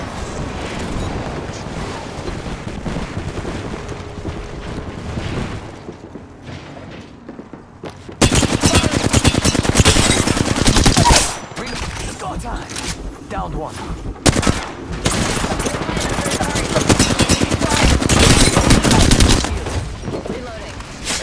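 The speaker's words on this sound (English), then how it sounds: "If you are unable to assist in an emergency, just shoot wildly into the air." Gunfire in the video game Apex Legends, shot wildly into the air: rapid automatic bursts that come loud and close in several long stretches, with quieter gaps between them.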